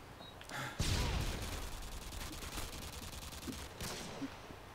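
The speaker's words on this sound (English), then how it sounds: "Oh, I'm getting shot at." Gunfire in Call of Duty Modern Warfare 2 breaks out as a quiet burst of rapid shots, followed by scattered cracks and a further short volley, all faint and distant-sounding, with no one talking.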